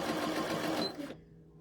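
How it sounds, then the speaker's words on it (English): A sewing machine stitches a quarter-inch seam in a steady continuous whir, loud and close, before stopping abruptly near the end and leaving quiet room tone. "we're going to sew 1/4 inch seam"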